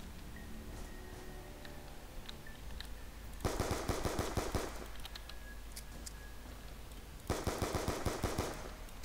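Rapid bursts of automatic gunfire in Call of Duty: Black Ops 2 Zombies, two loud rattling volleys over a quiet game background with scattered faint clicks, no talking.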